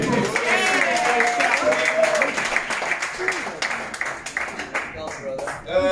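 Loud audience applause at a comedy club, dense clapping mixed with cheers and crowd voices rising over the room, then tapering into scattered claps near the end.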